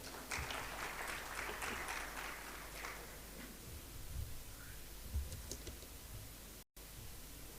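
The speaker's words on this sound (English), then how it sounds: "A huge round of applause for our special guest" An audience at an energy conference in Pakistan applauds a special guest, a steady patter of clapping that is loud at first and then thins and fades, heard from across the hall.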